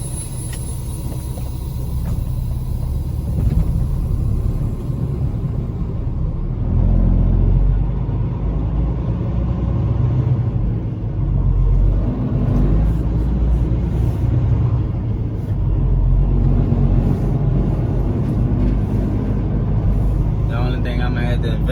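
A flatbed truck drives on the road with a steady, loud low engine rumble and road drone throughout, rising slightly at times as it moves along.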